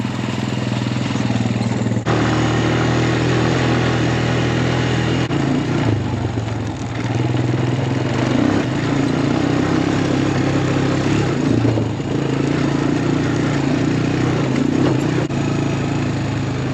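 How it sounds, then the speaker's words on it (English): A four-wheeler ATV engine runs steadily and fairly loud at a cattle calving site, a continuous mid-pitched drone with slight rises and falls throughout. "I think I need a four-wheeler."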